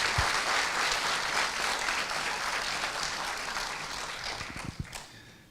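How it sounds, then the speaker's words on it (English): An audience at a keynote conference gives a full round of applause, loud and dense at first, then thinning and fading away in the last seconds. "I think we should give Selco and the team a big applause for what they've done"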